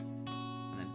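Guitar chord for a song sounds with added melody notes, two quiet plucked attacks ringing over a sustained chord in a short close-up passage.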